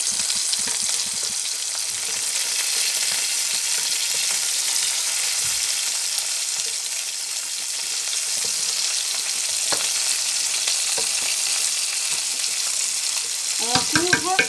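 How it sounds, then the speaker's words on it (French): Oxtail in tomato sauce bubbles and sizzles steadily in a pot, with a constant hiss throughout and a few brief clinks of utensils near the end. "maintenant ça va juste un peu bouillir et puis c'est bon"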